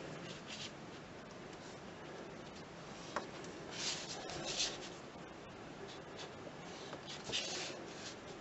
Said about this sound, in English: go all the way along your cardstock or paper stock and draw yourself what turns out to be a series of triangles